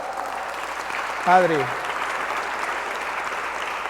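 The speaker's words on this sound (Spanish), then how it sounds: "Denle un fuerte aplauso al Señor" A church congregation applauds during a Spanish-language worship service, a steady broad wash of clapping held at an even level throughout, with a brief spoken word from a man in the middle.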